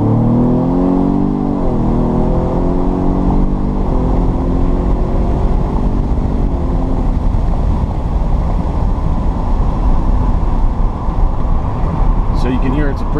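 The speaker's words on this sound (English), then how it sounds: "So you can hear it's a pretty quiet exhaust system right now." A 2017 Ford Raptor pickup in sport mode accelerates on its quiet stock exhaust, with rising harmonic tones through several gear changes, then settles into a steady loud drone of road and exhaust noise.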